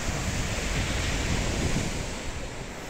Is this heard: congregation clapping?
no